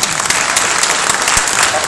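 Staff of an administrative support department at a city hall gathering clap, a loud, steady burst of applause with a few sharper individual claps, and a voice briefly audible over it.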